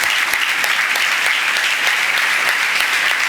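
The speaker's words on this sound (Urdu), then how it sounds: "سنڈے اسکول اوپر ہے ان کے لیے بھی تالی بجا دو" A church congregation gives a round of applause for the Sunday school, continuous dense clapping at a steady, fairly loud level.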